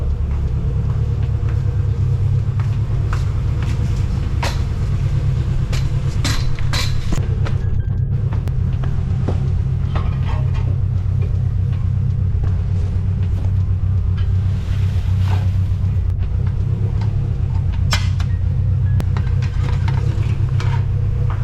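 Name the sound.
Subaru WRX engine idling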